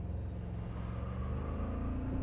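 A 2024 Toyota Tacoma pickup launches with brake boost and traction control fully off, its engine a loud, steady low rumble that builds throughout, with no distinct tire squeal standing out.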